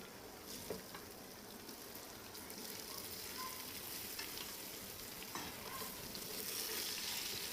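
Boiled beetroot going into a pan of frying potatoes for a beetroot curry, giving a steady broad sizzle and soft stirring clatter with a few brief scrapes, moderately loud and continuous, with no talking.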